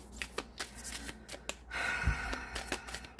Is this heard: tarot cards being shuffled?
yes